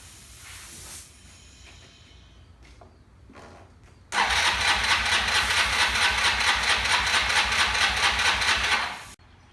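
A Honda Elite 150 scooter sits quiet for a few seconds, then its engine fires and runs with a loud, steady, buzzing idle close by for about five seconds before abruptly cutting off.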